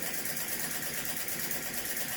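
A model V-twin desktop suction engine with wick-fed flames and big fuel reservoirs runs at a steady idle, a close, even chugging hiss that stays unbroken throughout.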